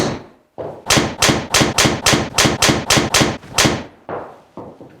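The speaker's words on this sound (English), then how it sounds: "I've hit a load of shots, and I mean a load of shots, primarily because it feels and sounds really nice" A Mizuno STZ golf driver strikes balls in about eleven sharp, loud, evenly spaced impacts, each a crisp crack with a short ring, close to the microphone and with no talking.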